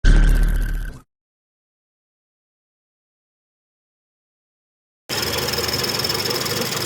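A Hyundai car engine runs with a loud, close rumble for about a second, cuts to silence, then returns as a steady idle for the last couple of seconds.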